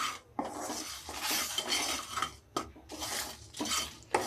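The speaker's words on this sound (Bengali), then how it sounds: "এই গোটা গোটা মশলাগুলো আমি কড়াতে দিয়ে দিলাম, দিয়ে একটু নাড়াচাড়া দিয়ে নেব" Whole spices being stirred in a metal kadai for veg navratan korma, with close, busy scraping and rattling in long strokes broken by brief pauses and no talking.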